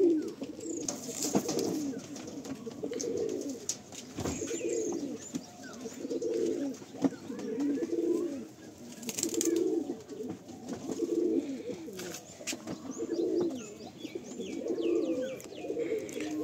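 Pigeons in a full loft cooing in a repeated, soft rhythmic pattern, several low throaty coos a few seconds apart, with faint rustling and occasional chirps in the background.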